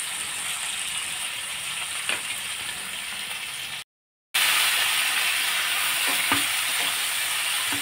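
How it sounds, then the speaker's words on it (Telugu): Biryani ingredients fry in a pan, a steady close sizzle with light scraping from stirring, broken by a brief silent gap before the sizzle resumes. "వీటన్నిటిని బాగా ఫ్రై చేసుకోవాలి."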